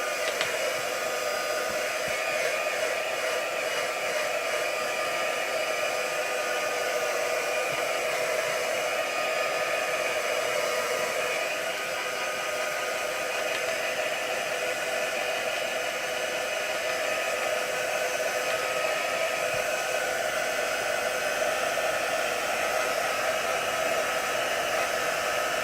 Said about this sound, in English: Now, let's get the dryer.